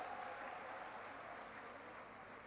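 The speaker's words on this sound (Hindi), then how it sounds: "मैं चाहूं कि एक बार जोरदार तालियां बजाकर आंगो स्वागत सत्कार लूणकरणसर की धरती पर करो" Distant, faint applause from a crowd at a farmers' mass rally in Lunkaransar, Bikaner, welcoming Hanuman Beniwal. The clapping forms a soft, continuous wash with no voice over it.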